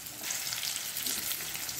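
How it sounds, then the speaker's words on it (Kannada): Balls of Mangalore-style menthi patrode fry in hot oil, giving a faint, steady, even sizzle with no talking. "ಈ ಎಣ್ಣೆಯಲ್ಲಿ ಉಳಿದ ನಾವು ಉಂಡೆಗಳನ್ನು ಕರೀಲಿಕ್ಕೆ ಉಂಟು"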